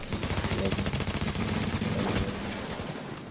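Rapid hip-fire gunfire in The Division, a steady automatic burst of shots running almost the whole time, close and loud, with a brief voice under it.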